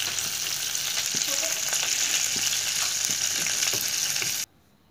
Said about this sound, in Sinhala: මෙන්න මේ විදිහට මුලින්ම සුදුලූනුයි මිරිස් කරල් දෙක තුනයි කරපිංචයි කුරුඳුයි මුලින්ම දාගන්න ඕනේ.